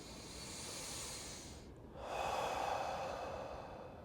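Deep, slow breathing during a Hatha Kriya Kundalini yoga session: a long, airy exhale fades to a brief pause, then a fuller, louder inhale swells and holds, close and soft with no talk.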